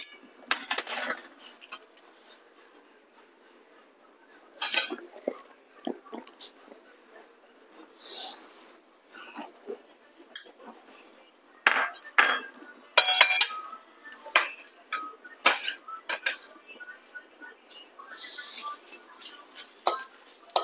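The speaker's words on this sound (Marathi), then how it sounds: "आता हे साहित्य थंड होईपर्यंत कढीपत्ता भाजून घेऊया." Curry leaves roasting in a hot kadhai, with scattered clinks and scraping from a spoon stirring against the metal pan, irregular and close, while a voice talks over it.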